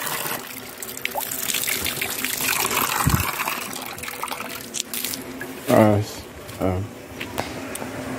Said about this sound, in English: as you can hear the sound, the water is pumping